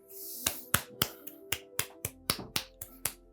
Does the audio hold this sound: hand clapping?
yes